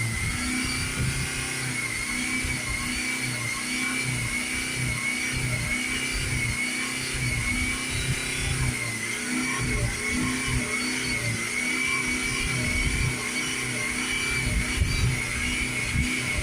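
Honda Civic 2.2 diesel engine revving with a DPF smoke warning light, a steady close mechanical drone with rhythmic low pulses and a whining, buzzy upper tone throughout.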